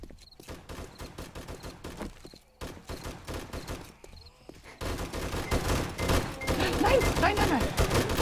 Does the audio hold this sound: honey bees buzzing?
no